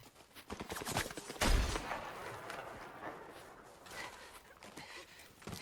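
Gunfire in a film combat scene with no music, a rapid scatter of shots from several directions, one heavy blast standing out, heard fairly faint and muffled.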